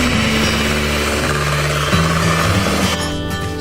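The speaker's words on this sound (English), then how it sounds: "we're going to whisk it all up for our electric mixer" An electric mixer whisks pancake batter, its steady motor hum running loud and continuous throughout, with a pitch shift partway as the beaters change speed.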